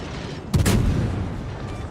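A Worcester cruiser's high-explosive gun salvo in a naval video game lets off one sharp, loud blast that trails into a long, rumbling echo fading slowly.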